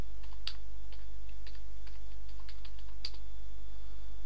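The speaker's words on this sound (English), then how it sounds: "Just type your password in," Typing a password on a computer keyboard during an Ubuntu settings change: a few scattered, light key taps at an uneven pace over a steady low hum, with no talking.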